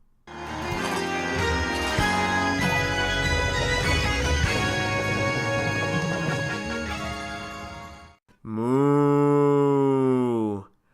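Cartoonish cow moos from the Moo Moo Meadows track in Mario Kart 8 Deluxe, a long loud bellow followed by a second, higher drawn-out moo, played over upbeat game music.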